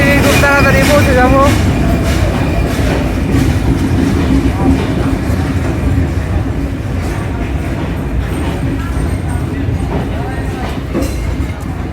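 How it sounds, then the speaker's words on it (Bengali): A crowded train pulls into a station: loud rumbling and clattering wheels with a rising whine early on, the rolling noise easing as it slows, with people talking over it. "ট্রেন এসে গেছে, আমরা আশা করছি খুব তাড়াতাড়ি পৌঁছে যাব।"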